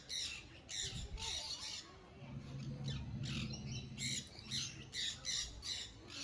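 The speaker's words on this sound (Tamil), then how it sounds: "இங்கெல்லாம் மறுபடியும் விதவிதமான லவ் பேர்ட்ஸ் எல்லாம் இருந்தது" Lovebirds in a Bannerghatta zoo aviary give a rapid, irregular run of sharp, shrill squawks and chirps over a low background murmur.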